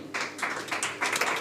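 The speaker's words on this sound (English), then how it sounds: "Let's applaud as the official launch is happening" At an official Africa CDC regional centre launch in Nairobi, an audience breaks into brief, dense applause, the clapping swelling in bursts.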